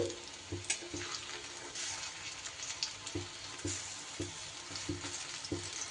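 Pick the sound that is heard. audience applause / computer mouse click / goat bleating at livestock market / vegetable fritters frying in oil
vegetable fritters frying in oil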